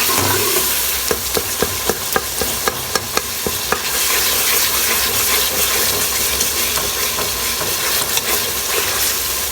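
Masala for a homemade chicken curry fries in a pan while being stirred, with a loud steady sizzle and hiss and a run of rhythmic clinks from a spoon against the pan early on, and no talking.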